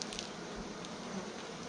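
Bees buzz in a dense, continuous hum close by, many wings droning together without pause over a short stretch.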